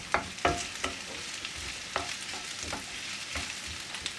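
Ginger fries in a pan over raised heat, a soft steady sizzle broken by several sharp scraping stirs of a utensil against the pan.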